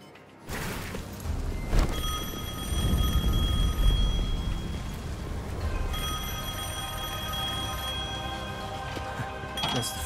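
An old telephone ringing in the action game Devil May Cry 5, a shrill metallic bell trill in two long bursts, with a low rumble and a crash near the start.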